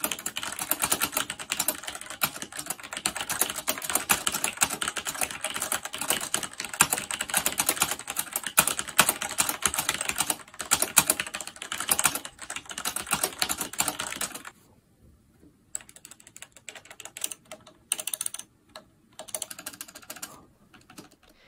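Fast typing on the keyboard of an old Wyse WY60 terminal, dense clattering keystrokes with rattling stabilizers, then slower scattered presses with pauses near the end, heard alone and close.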